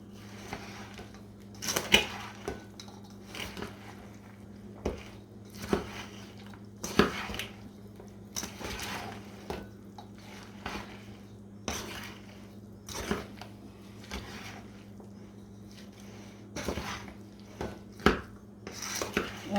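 Cornbread salad being crumbled and stirred in a bowl, with scattered soft clinks and scrapes of a utensil against the dish at irregular intervals over a low steady hum.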